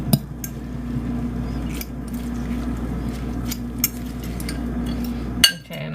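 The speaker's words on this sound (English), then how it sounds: "Stir till it's foamy." A utensil stirs keto cabbage bread batter in a bowl until it turns foamy. Soft, steady swishing is broken by scattered light clinks against the bowl and a sharper knock near the end, over a low kitchen hum.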